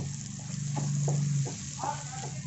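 Coconut spice powder is stirred into a frying curry, producing a low sizzle and bubbling with several wet stirring knocks, up close and fairly quiet; a low hum runs beneath, with no speech.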